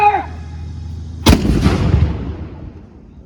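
A cannon fires at a Revolutionary War living-history demonstration: one sudden deafening boom, close by, rolling into a long fading rumble after a quiet pause.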